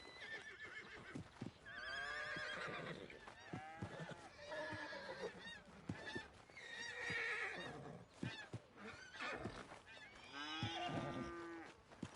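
Horses in a PS4 video game whinny and neigh repeatedly, loud, close, high wavering calls with snorts between them, filling the stretch without any talking.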